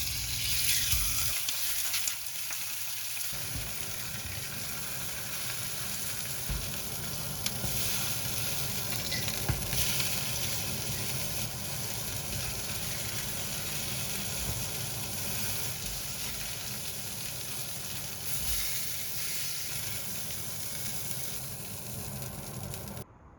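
Food sizzling in a hot pan, a steady close frying hiss that continues unbroken and fairly evenly for over twenty seconds with no talking.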